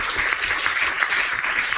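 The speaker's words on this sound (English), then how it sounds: "So I think the panelists earned themselves a big round of applause" An audience at a panel discussion applauds the panelists, a short burst of even, continuous clapping from a roomful of people, fairly loud and close.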